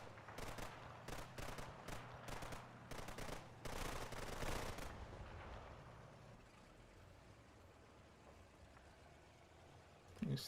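Gunfire in Red Thunder: several bursts of sharp shots in the first five seconds over a low engine drone, then fading to a steady quieter rumble with a brief loud hit at the end.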